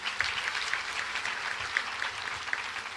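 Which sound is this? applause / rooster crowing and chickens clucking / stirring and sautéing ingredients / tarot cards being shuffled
applause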